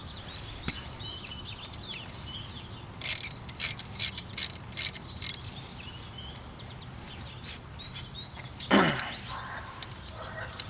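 Ratchet clicking in short bursts while tightening brake bolts on a 2017 Honda Civic during a rotor and pad replacement, a run of quick mechanical clicks near the mic with a softer click sequence later.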